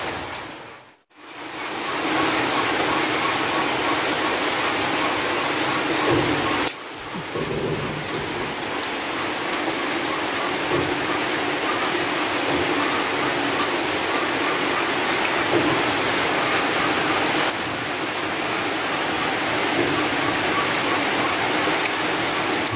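Steady rain pours down on a rural Malaysian plot with cassava, coconut and banana plants, a dense continuous hiss with a brief break near the start and a dull thunder-like rumble underneath.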